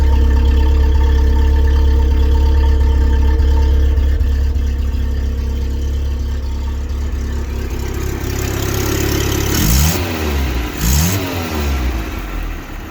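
A 1975 Toyota SR5 pickup with a 20R engine and five-speed manual, fitted with a Honda Pilot muffler, idling with a deep steady rumble before several quick revs near the end.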